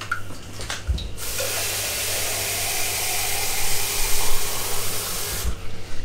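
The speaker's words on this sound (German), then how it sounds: "Dann kippe ich hier noch mal eine Ladung Wasser rein." Water gushes steadily into a pot of ossobuco alla Milanese for a few seconds, a bright, close splashing pour that stops abruptly, with a low kitchen hum underneath.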